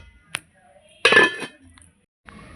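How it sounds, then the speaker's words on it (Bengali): Metal clinks and a clattering clank as a lid goes onto a pot of fish curry, a few brief separate knocks close by in a quiet kitchen. "অল্পই জল দিলাম আর দেব না এবার ঢেকে দেব"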